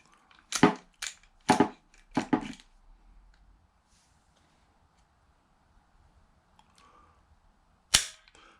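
Home-built black powder pistol firing repeatedly: four sharp, loud reports in quick succession, then a long quiet gap before one final crack, with no talking.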